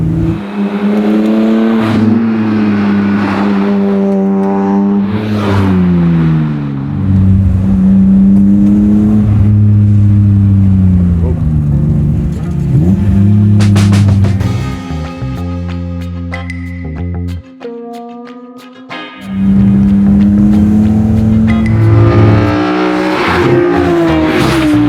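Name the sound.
BMW E30 with S54 engine swap driving and revving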